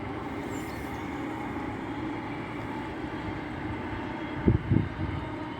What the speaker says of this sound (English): Train going from Edinburgh to Bridge of Allen and Dunblane.